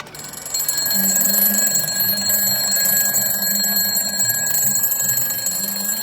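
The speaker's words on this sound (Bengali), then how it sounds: "এই অ্যালার্ম গুলা অনেক জোরে, বিকট শব্দে ঘরে" A loud alarm clock rings continuously with a harsh, shrill electronic tone, close by and steady for about five seconds with no talk over it.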